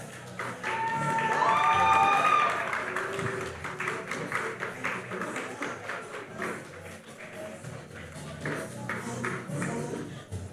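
An awards ceremony audience applauds as an honoree comes to the podium. The steady applause swells early, with a brief tonal sound riding over it, then settles into an even patter for the rest.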